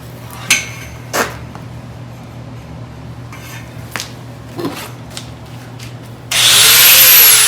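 A power tool fitted with a cutoff wheel, used in a car repair shop while making custom rotisserie mounts for a 1970 Challenger, spins up with a loud, steady high whine at the end, after scattered metal clanks and taps.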